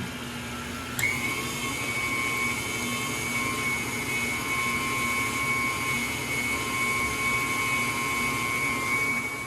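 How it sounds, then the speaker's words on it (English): An electric mixer beats homemade waffle batter with a steady, fairly loud motor whine and hum that holds an even pitch from start to finish, with no voices. "I'm going to allow this to mix until it is well combined."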